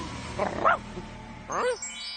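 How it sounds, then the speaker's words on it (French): Cartoon dog giving two short, close barks or yips separated by a pause, fairly loud against a quiet background. "Et elle transforma Odie en chien."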